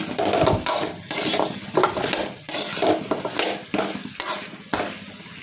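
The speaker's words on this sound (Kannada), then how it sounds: "ಚೆನ್ನಾಗಿ ಫ್ರೈ ಮಾಡ್ಕೊಳ್ಳಿ" Vegetable manchurian being tossed and fried in a pan, loud close sizzling broken by repeated rhythmic stirring scrapes about every half second.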